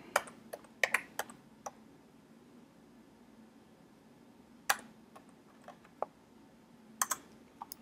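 Sparse clicks of someone typing a short phrase on a keyboard, several quick taps at the start, then isolated keystrokes spread out over a quiet room hum.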